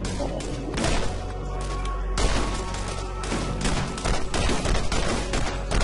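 Near-continuous gunfire while shooting a bandit in Borderlands: dense, loud, rapid shots and impacts over several seconds, with occasional heavier booms mixed in.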